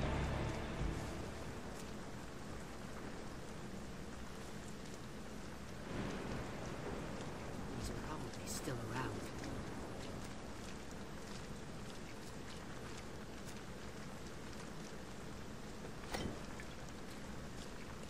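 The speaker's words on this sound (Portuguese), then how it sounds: "Bem legal o efeito da chuva no chão." Steady rain falling on the ground in the stealth video game Thief, a dense continuous hiss over a low rumble with a few brief sharper sounds, no speech.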